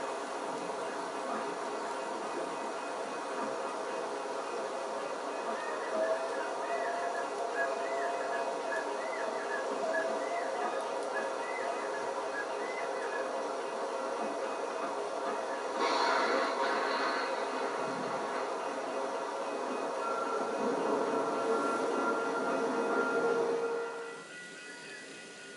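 A locomotive hauls a train past a mine at night, a steady broad rumble with faint screeching overtones, swelling slightly toward the end before dropping off, heard from a moderate distance with no talk.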